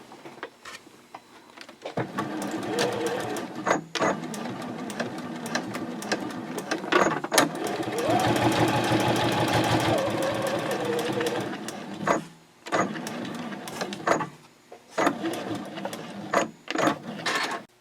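Sewing machine backstitching the seam of a fold-flat project bag for knitting and crochet, sewn from the bottom of the bag up at a half-inch allowance, in close whirring runs broken by short pauses.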